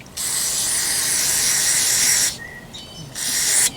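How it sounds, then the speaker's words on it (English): Carburetor cleaner sprays from an aerosol can onto the carburetor of a vintage Craftsman backpack leaf blower: a loud, close hiss of about two seconds, a short pause, then a second brief burst. "Get a little bit of that carb clean."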